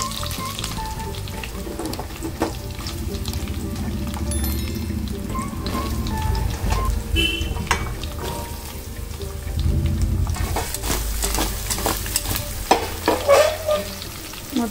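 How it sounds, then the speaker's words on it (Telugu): Pumpkin pieces fry and get stirred into a hot mustard-seed tempering in an Andhra-style village kitchen, giving a steady close sizzle broken by scraping spoon strokes that grow busier toward the end. "తాలింపు వేగింది, నేను కట్ చేసుకున్న గుమ్మడికాయ ముక్కలు ఇందులో వేసేసుకుంటున్నాను"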